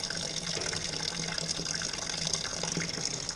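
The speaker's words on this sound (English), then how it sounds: "we're putting the strike water into the mash tun here." Strike water pours steadily into a mash tun while home brewing a chocolate coconut oat stout, a continuous close gushing and splashing of liquid with no talk.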